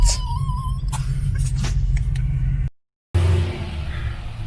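An LS V8 car engine idles with a steady, deep low rumble and occasional revs, cut by a brief silent gap before the rumble resumes.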